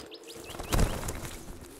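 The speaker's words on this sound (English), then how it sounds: "Oh, those birds are loud." Birds chirp in the Zero Sievert video game, a few quick, high tweets scattered over two seconds alongside a soft thud and low ambient background, no talking.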